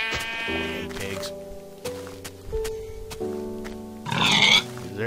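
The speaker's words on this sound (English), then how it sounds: "Hey, pigs." Pigs in Minecraft on Xbox 360 give short, tonal grunts and oinks in a few separate bursts over game sounds, with a brighter squeal near the end.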